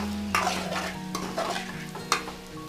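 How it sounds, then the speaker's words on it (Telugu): Boiled potatoes frying in a pan, stirred with a few sharp scrapes and clinks of a spoon against the metal over a low, steady sizzle, close by and with no voices. "ఈ బంగాళాదుంపల్ని బాగా ఫ్రై చేసుకోవాలి"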